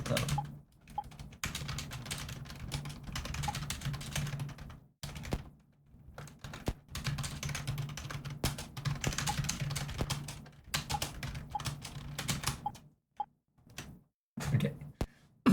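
Rapid keyboard typing by someone with a bandaged cut finger, steady bursts of clicking keys broken by short pauses, close and fairly loud with no talking.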